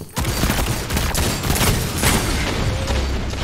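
Rapid bursts of automatic gunfire from a Destiny 2 firefight, loud and dense, with repeated shots and booms running continuously throughout.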